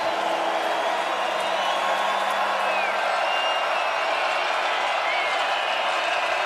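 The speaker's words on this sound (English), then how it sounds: "You can hear the crowd" A stadium crowd at a college football game between Northern Iowa and South Dakota State gives off a steady, distant roar that holds evenly throughout.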